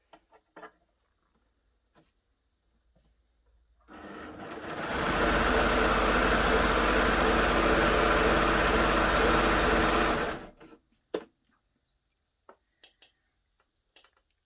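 A Baby Lock Gloria combination cover stitch and overlocker runs steadily through organza for about six seconds, a loud, even high-speed mechanical whir that begins and stops abruptly, with light handling clicks before and after.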